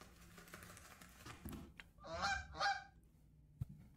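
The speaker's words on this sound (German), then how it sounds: "Der Lieferdienst. Die Gänse." Geese honking in the video game Backbone, two loud close honks in quick succession rising out of a quiet background, followed by a faint sharp click.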